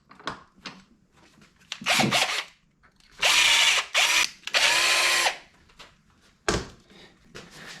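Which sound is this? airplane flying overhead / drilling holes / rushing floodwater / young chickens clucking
drilling holes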